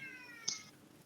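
A faint, short cat meow rising briefly out of a quiet room-tone background, heard once near the middle.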